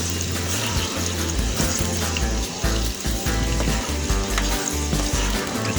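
Soy sauce mixture poured into a pan for steamed fish hisses and bubbles with a dense, steady boiling sizzle and low churning rumble, close and continuous without talking.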